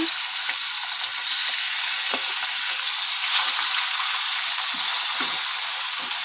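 Phasa fish frying in a pan, a loud, continuous sizzle with scattered small pops and crackles, with no talking throughout.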